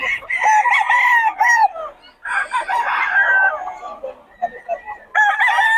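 Several roosters crow in long, overlapping calls with a short gap, loud and near at a chicken seller's stalls in Bocaue, with some clucking mixed in.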